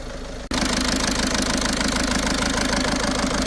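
A car with a serious engine fault, an ECM problem and an internal leak, idles loudly and close, a steady rough rumble with a harsh knocking texture that starts abruptly after a brief pause.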